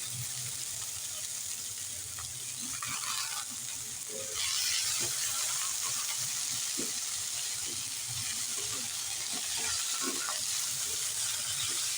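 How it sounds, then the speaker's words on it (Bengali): Vegetables sizzle steadily in a pan for egg chowmein, a continuous close hiss with brisk scraping and stirring clatters scattered throughout, growing slightly louder partway through and with no talking. "দিয়ে একটু ভালো করে ভেজে নেব"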